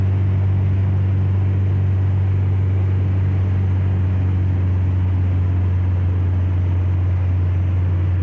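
A Chevy 1500 pickup with a swapped BEW TDI diesel engine cruising on the road, a steady loud low drone and rumble that holds constant throughout with no talking.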